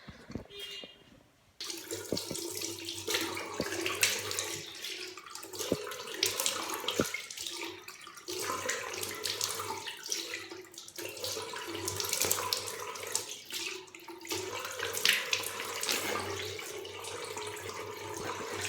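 Water runs steadily from a tap with splashing and sloshing as hands scoop it, a continuous wash lasting throughout after a brief quiet start.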